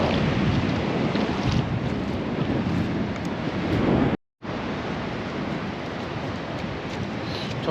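Seawater surges in steadily with the incoming tide on the shore at Yeongjongdo, a continuous loud rushing wash mixed with wind buffeting the microphone, briefly cutting out midway before resuming.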